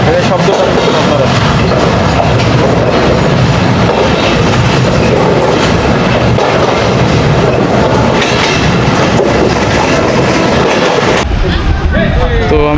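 Mohananda local passenger train in Bangladesh rolling steadily along the rails, a loud continuous rumble with rhythmic wheel clatter heard from inside the carriage, ending with a brief squeal.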